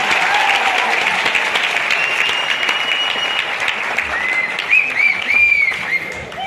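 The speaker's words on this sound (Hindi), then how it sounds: "ताली होनी चाहिए।" Sustained, loud applause from a crowd at a teacher's live meet-up in Jaipur, many hands clapping densely with some whistles and cheers rising near the end.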